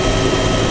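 Helicopter squadron in the ARMA 2 combat game, a steady dense rotor and engine drone that fills the moment evenly with no break or talk.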